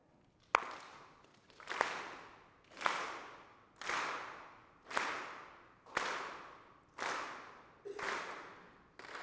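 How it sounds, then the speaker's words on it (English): An audience at a spring convocation claps together in unison, eight loud synchronized claps spaced evenly about every second and a quarter, each with a ringing hall reverberation trailing off. "If we clap together"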